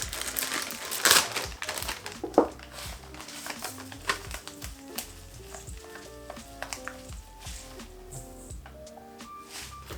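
Packet of coconut being opened for baking, loud crinkling and crumpling of plastic packaging close by, with sharp rustles early on and lighter handling noises continuing throughout.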